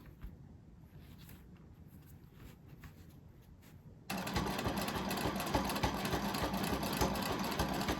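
A sewing machine stitches in the ditch while quilting a scrap quilt's outside border, running slower along the seam; it starts quiet and then jumps to a much louder, steady whirring hum for the second half, with no talk.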